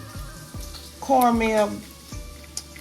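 Cabbage fries in a pan with a low sizzle under a voice, while a few short thumps and a brief musical tone pass through.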